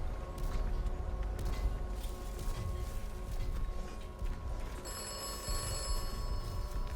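Telephone ringing in the video game Atomfall, its steady electronic ring rising over a dense, noisy game ambience during the last couple of seconds.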